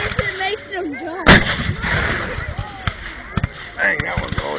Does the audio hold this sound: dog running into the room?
no